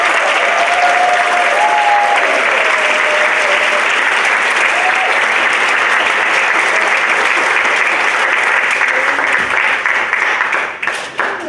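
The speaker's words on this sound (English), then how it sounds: "Please give a big round of applause for Merick's Unified Sports coaches, Ms. Hil" A large audience at a school sports award ceremony applauds loudly and steadily for about eleven seconds, with some cheering mixed in before the applause tapers off at the end.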